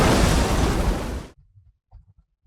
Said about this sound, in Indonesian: Ayah ada ledakan.